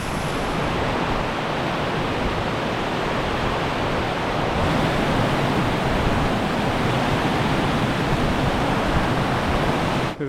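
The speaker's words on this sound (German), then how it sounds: "ist das auch Wasserfall." Waterfall on the Piteälven river in Lapland wilderness, a steady, loud, broadband rushing roar of falling water that stays constant and close for the whole stretch, with no voices.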